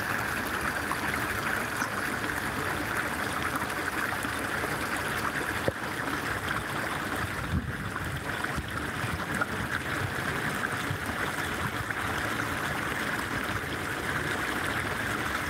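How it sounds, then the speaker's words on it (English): Running water from a water feature in the Watergardens shopping centre in Melbourne flows in a continuous, even rush, a steady wash of splashing that holds unchanged throughout with no talk. "let us all enjoy the sound of the running water"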